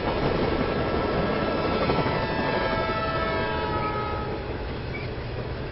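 An EMU commuter train runs alongside as a long-distance train passes, making a loud continuous rumble of wheels and motors with a sustained tonal horn-like whine; no voices.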